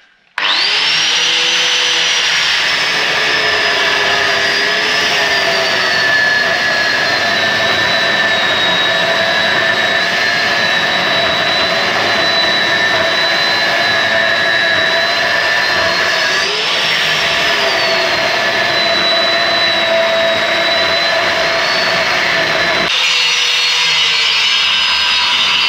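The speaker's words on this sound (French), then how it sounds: "on va découper et on va percer" An angle grinder with a cutting disc slicing through metal while making supports for a Massey Ferguson tractor cab: a loud, continuous high whine that dips and rises as the disc bites, close and unbroken.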